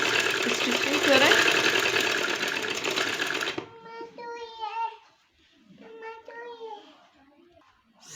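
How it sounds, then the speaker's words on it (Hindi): A sewing machine stitches a sleeve, running loudly for a few seconds and then stopping, followed by quieter short bursts of stitching. "ये यहाँ से पूरी स्टिचिंग करें।"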